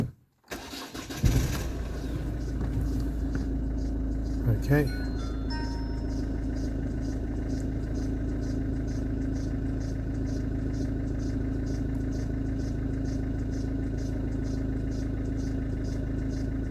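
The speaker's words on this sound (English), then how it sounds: "Please run the engine and keep it idle." A Mazda 3 engine cranks and catches, then settles into a steady, continuous idle; a person speaks briefly near the start.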